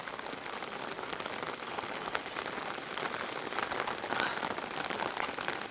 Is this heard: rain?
yes